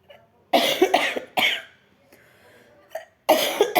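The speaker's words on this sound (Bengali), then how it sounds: "খুব কাশি হয়েছে।" A person with a cold coughs in several harsh, close bursts, separated by short silent pauses, with a throaty rasp in each fit and no talk.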